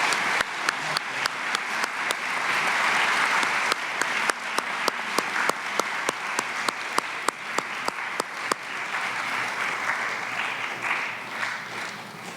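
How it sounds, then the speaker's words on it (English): Applause from an audience at a high school fall academic awards ceremony, a continuous bed of clapping punctuated by sharp, regularly spaced loud claps nearby, gradually thinning toward the end. "Excellent work on the applause."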